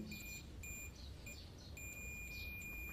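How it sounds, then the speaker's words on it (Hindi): A multimeter on continuity test beeps while checking a fuse mounted on a PCB, giving several short, clear electronic tones in bursts of varying length against quiet background noise. "ये फ्यूज जो पीसीबी में लगा हुआ है, दोनों टर्मिनल पर बीप साउंड आना चाहिए"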